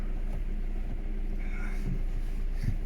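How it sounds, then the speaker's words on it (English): A 2004 Ford Mondeo TDCi diesel idles with a steady, low, rattling rumble, heard close and continuous with faint knocks throughout. "Rattles. It's a diesel."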